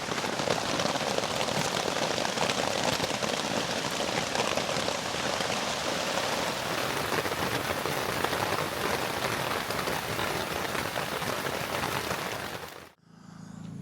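Heavy rain falls steadily in Indonesia, a dense, close, continuous patter with no voices, cutting off abruptly just before the end.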